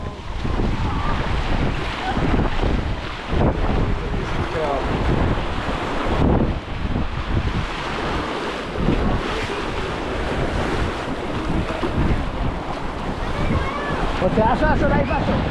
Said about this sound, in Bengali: আমরা কিন্তু এখন আছি পুরো সমুদ্রের ভিতরে